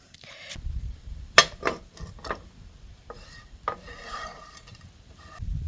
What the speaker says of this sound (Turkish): Tavada şöyle kuru kuru biraz kızartır gibi, kavurur gibi yapacağım. Sık sık karıştıracağım.